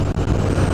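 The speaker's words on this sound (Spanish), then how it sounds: "Vamos a pasar a este tractor con remolque." A tractor pulling a trailer on a country road in Vilar de Santos, Spain, is overtaken by a Ducati Scrambler motorcycle, giving a brief, steady, low engine rumble at moderate distance with no talking.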